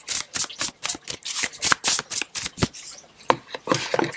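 Crystal oracle cards are shuffled by hand in a rapid series of crisp riffling bursts, close and fairly loud, with a brief pause near the end before the shuffling resumes.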